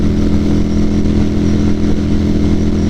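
Motorcycle riding along a highway, a loud, steady, close engine drone with continuous road and wind roar and no breaks.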